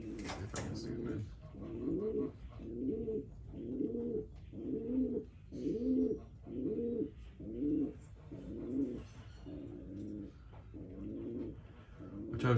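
Domestic pigeons cooing in a backyard loft, including a blue bar hen with bronzing, a regular series of soft, throaty coos close by, repeating steadily with short gaps.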